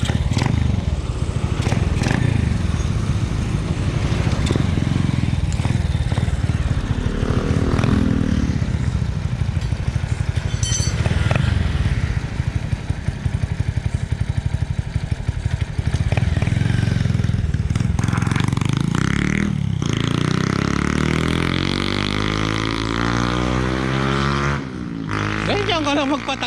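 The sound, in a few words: underbone motorcycle engine revving with regrind cams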